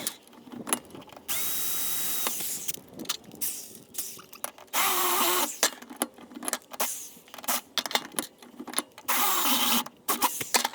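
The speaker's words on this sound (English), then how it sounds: "using these nice bits of flat bar that I've cut up and drill some holes into them" A power drill whines in several long bursts, drilling holes into pieces of flat steel bar, with clanks and handling noises between the drilling runs.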